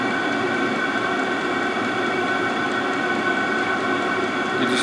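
A Vevor heater runs with a steady broadband roar and hum that stays close and constant, dipping slightly in level, with no talk over it.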